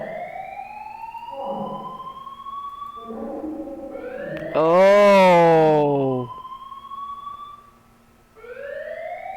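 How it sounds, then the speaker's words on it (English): A wailing alarm from the video game 999: repeated rising siren sweeps, then a loud, harmonically rich blaring surge that cuts off, leaving a brief gap before the rising tones resume, with a short spoken interjection. "We know that alarm better than anybody, because that was the last ending."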